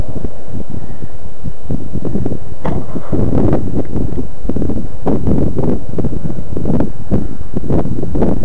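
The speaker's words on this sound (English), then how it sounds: "That's how hard the wind's blowing." Strong wind buffeting outdoors, loud gusting roar and rumbling microphone turbulence pulsing continuously, with no talking.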